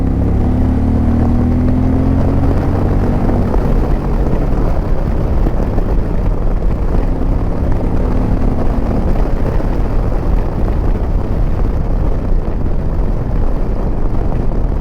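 A 2025 Indian Challenger 112 PowerPlus motorcycle pulls hard in third gear from about 3,000 to 3,500 rpm on open road, its deep engine drone loud and steady throughout with heavy wind rush over it.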